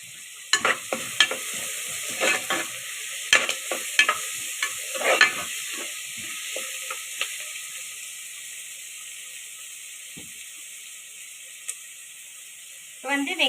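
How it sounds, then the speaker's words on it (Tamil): Onions frying for hotel-style salna, sizzling steadily in a pan while a spoon scrapes and stirs in irregular bursts, fairly close, fading to a quieter sizzle before a final stir. "வெங்காயம் ஃப்ரை ஆகட்டும்."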